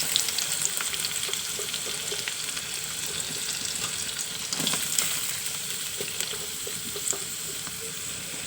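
Garlic, shallots and onion sizzling in hot oil while being stirred, a continuous crackling fry with scraping stirs and occasional clinks, close and steady, no talking.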